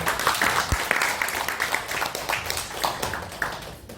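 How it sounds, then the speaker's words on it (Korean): Attendees at a public humanities lecture in Gwangju give a round of applause for the cafe staff, a full, even clatter of many hands that continues throughout. "카페 필로소피아 식구들 위해서도 박수 한번 부탁드려요"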